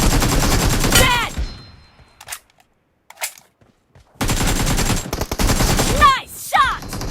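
Gunfire in PUBG/BGMI, rapid bursts of automatic shots in two dense volleys separated by a near-silent gap with a few isolated cracks, plus short whooshing effects; game voice callouts are mixed in.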